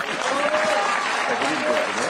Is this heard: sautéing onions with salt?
no